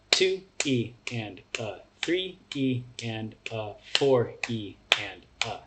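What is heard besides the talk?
hand claps on each sixteenth-note subdivision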